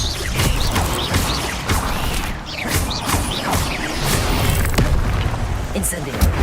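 Expelliarmus disarming spells in the video game Hogwarts Legacy fire off as a string of loud booming, crashing magical impacts over continuous combat noise, with voices mixed in.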